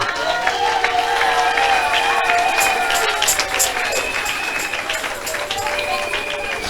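A crowd at a closing dedication event cheering and clapping, a dense, continuous wash of applause and shouts, with a voice talking over it.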